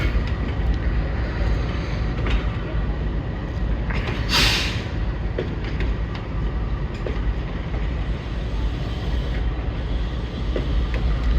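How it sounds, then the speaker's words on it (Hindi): A railcar train pulls away from Wazirabad Junction, a moderate, steady rumble of wheels and engine with a brief hiss midway, heard from nearby with faint background activity. "तो रेलकार भी जा रही है जी वज़ीराबाद जंक्शन से"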